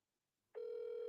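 A telephone tone starts abruptly and holds as a steady, clear ring for just over half a second.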